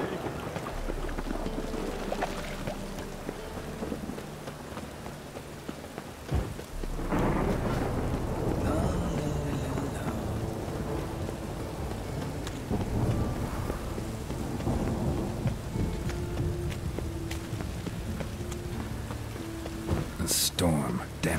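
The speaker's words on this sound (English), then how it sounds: "A storm, damn it." Thunderstorm in The Witcher 3 video game: steady rain and wind with deep rolling thunder claps, loud and continuous throughout, with a sharp crack near the end.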